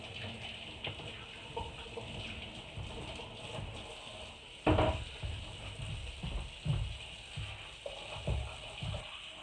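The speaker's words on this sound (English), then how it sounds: "let me wash off my hands" Tap water runs steadily while hands are washed after seasoning cast iron, a continuous hiss with scattered clunks and knocks of handling throughout.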